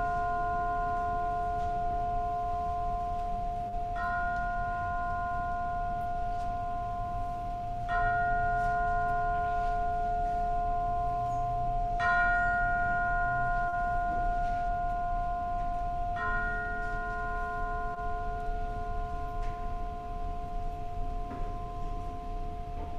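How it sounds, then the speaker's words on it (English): Church chimes ring out before a Sunday worship service, sounding a slow series of sustained, resonant tones, one new note every few seconds, each left to ring and overlap with the others in a quiet sanctuary. "Let us now prepare ourselves for worship as Margaret plays the chimes."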